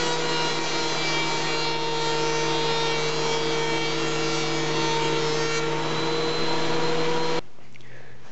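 A thickness planer takes light cuts across a segmented wood bowl, a loud steady whine with strong tonal bands, running unbroken for about seven seconds before it abruptly cuts out, with no talking.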